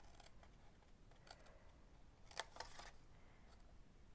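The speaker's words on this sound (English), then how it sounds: "we're going to bring in some paper snips, and we're going to do a little bit of cutting here" Paper snips cut through a cardboard gift box: a faint, quiet handful of crisp snips clusters near the middle, with no talking.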